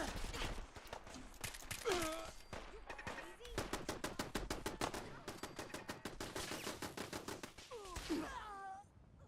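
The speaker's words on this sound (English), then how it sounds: "I thought the turrets were firing at me there for a second" Automated turrets defending a settlement in Fallout 4 fire long rapid bursts of gunfire in a fast rattling rhythm at middle distance, with brief voice-like sounds at the start and end.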